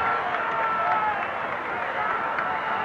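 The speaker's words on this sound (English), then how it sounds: "receiving the plaudits of the crowd" A large crowd at a 1966 VFL Australian football match between North Melbourne and Carlton roars and applauds after a goal, a dense, continuous wash of cheering and clapping with commentary in the mix.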